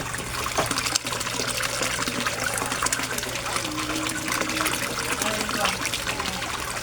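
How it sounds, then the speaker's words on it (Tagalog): Steady trickling and splashing water from a submersible pump running in a koi pond, a continuous close wash of liquid with a person talking over it throughout. "ipiplex ko din ang water pump ko or submersible pump ko"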